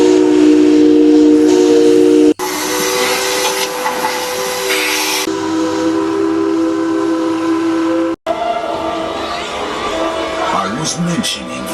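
G scale model ghost train ride departing, with a steady, loud steam whistle tone held through the clip, interrupted by brief cuts, and a voice speaking over it.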